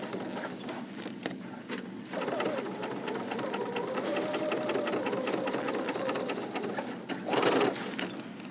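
A home sewing machine backstitches across the end of a quilted zipper bag, a steady close mechanical whir running nearly the whole time with a few short pauses and restarts.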